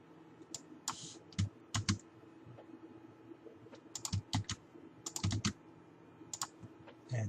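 Someone types a tag on a computer keyboard, with bursts of close, crisp keystrokes in irregular clusters over several seconds. No speech.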